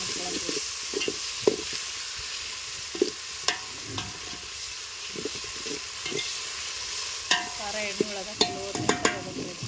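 Garlic frying in a pan with green chili paste and salt, a steady soft sizzle broken by irregular scraping stirs and spatula clicks, close and without talk.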